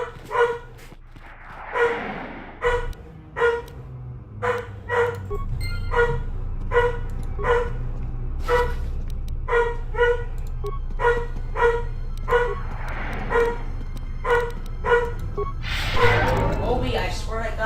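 Dog in the video game KOTOR 2 barks over and over in quick, evenly spaced yaps, loud and close, with breathy gasps and snorts mixed in over a low background hum.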